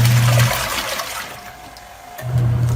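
KUPPET twin tub portable mini washing machine washing, a continuous sloshing and churning of water with a low motor hum that fades and returns, no talk.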